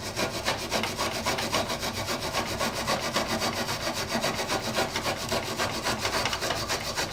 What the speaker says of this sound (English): going to scrub on this with this brass wire brush.